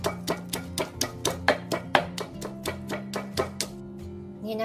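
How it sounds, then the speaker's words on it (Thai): Rhythmic pounding of garlic in a mortar, a dozen or so sharp, close thuds at an even pace, ending with a quieter scraping stretch. "ตำกระเทียมเลยค่ะ"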